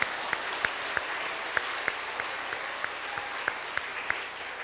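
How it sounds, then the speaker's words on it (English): Applause from an audience at a running camp closing session for summer campers, a steady wash of clapping with a few sharper individual claps standing out at a moderate distance. "Let's give them a round of applause."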